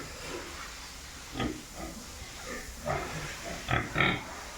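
Pigs on a farm give a series of soft, irregular grunts and snorts, several short bursts rising over a quiet hissing background, fairly close but low in level.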